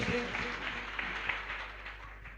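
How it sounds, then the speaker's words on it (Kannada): Devotees gathered at a village math applaud together in a steady, dense wash of clapping that runs throughout, with a voice talking faintly underneath. "ಒಂದು ಸರಿ ಜೋರಾಗಿ ಅಂದ್ರೆ ಚಪ್ಪಾಳೆ ತಟ್ರಿ"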